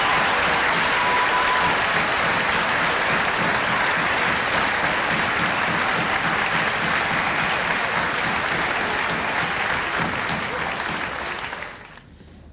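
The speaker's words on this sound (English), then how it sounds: "Please join me in giving these outstanding students one more round of applause." A large audience at a middle school graduation ceremony claps for outstanding graduating students, a loud sustained wash of applause for about twelve seconds before it abruptly cuts off.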